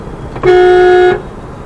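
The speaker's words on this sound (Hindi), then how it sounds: "आप देखिए हॉर्न देंगे" A single car horn honks once, a steady blaring tone lasting under a second, loud and close, with quiet surroundings before and after.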